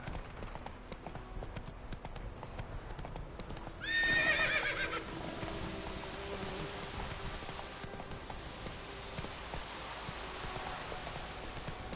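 Roach the horse gallops in The Witcher 3 with steady hoofbeat clip-clops, faint and distant under rain, and a short whinny partway through.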